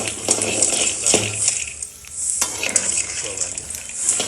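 Ingredients for a roadside-style thick chutney fry in a pan, giving a loud, close sizzle mixed with scraping and clattering of a utensil against the metal, and a brief quieter dip partway through.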